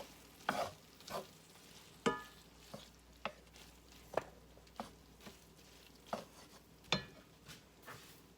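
Seasoning being stirred into a hamburger mixture in a pan, with a dozen or so scraping, clinking strokes at irregular intervals over a quiet background, no talking.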